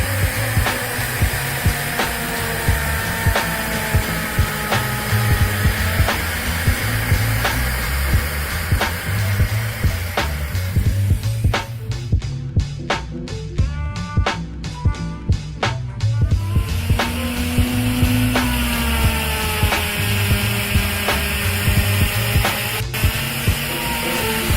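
Handheld wood router cutting into wood while a workshop vacuum extractor runs alongside, making a loud, continuous whining roar that holds steady, with a brief shift in tone partway through.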